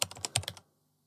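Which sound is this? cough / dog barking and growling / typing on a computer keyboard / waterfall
typing on a computer keyboard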